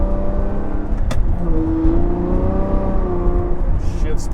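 A Lamborghini engine revs close by, its tone rising and falling smoothly under a loud continuous drone, and a short sharp click comes in early on.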